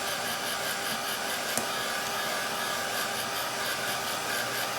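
A hair dryer blows steadily and loudly, drying acrylic paint on a pumpkin painting, with a continuous even whoosh throughout and no talking.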